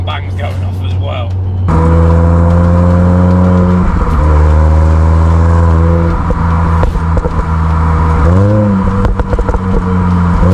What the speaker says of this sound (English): You can hear the little pops and bangs going off as well.